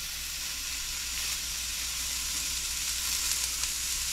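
Butter sizzles steadily in a pan of beurre blanc sauce, a continuous close hiss of frying with faint stirring and no talking.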